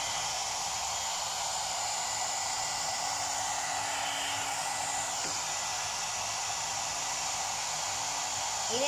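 One Step Hair Dryer and Styler running continuously, a loud, close, steady airy whoosh with a faint tonal motor hum underneath.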